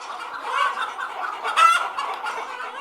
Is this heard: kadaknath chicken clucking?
yes